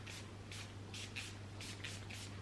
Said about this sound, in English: I'm spraying that much because it really doesn't last like it used to.